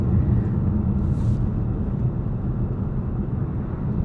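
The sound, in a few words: 2023 VW Tiguan SEL R-Line driving over rough bumpy road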